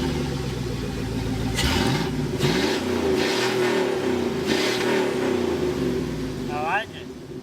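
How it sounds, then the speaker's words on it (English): A turbocharged LS engine in a Miata-based kart runs and revs, a loud steady mechanical drone with surging throttle blips through the middle, close by, ending with a brief whistling spool-down; voices are faintly present. "So go ahead and fire it up."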